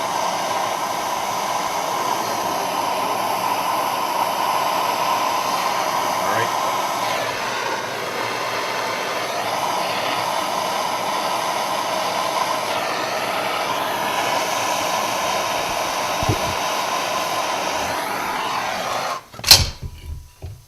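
A torch or heat gun heats a brass chimney cap for soldering, giving a steady close hissing roar that runs almost unbroken, then cuts off near the end followed by a brief clatter.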